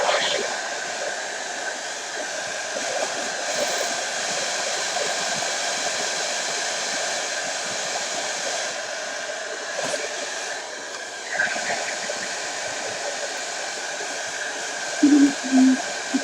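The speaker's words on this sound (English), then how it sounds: "let's make a pass with the dryer." A hair dryer blows over fresh base-coat paint on a Merkava Mk III tank model, a steady close whooshing drone running almost the whole time, with brief clicks and handling noises near the end.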